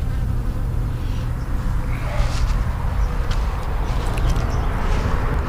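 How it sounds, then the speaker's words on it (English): Bees buzz steadily close by in a container garden, a continuous droning hum with occasional louder passes, no talking. "Thirsty little bees."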